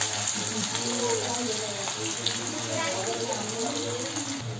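Onions drop into hot oil with bay leaf in a pan for prawn curry, sizzling and hissing continuously at close range.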